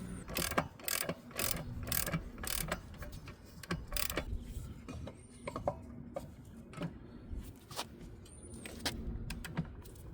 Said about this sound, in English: When you hear the click, it means it's 50 pounds.